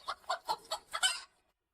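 A small young rooster in an animated tale gives a quick run of five or six sharp clucks in an even rhythm, clear and fairly close, then falls silent.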